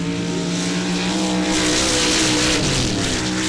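Two mud trucks, Team Extreme and Split Personality, race side by side down the drag lanes at an MRA event in Laporte, Indiana, with loud engines roaring at full throttle and rising in pitch.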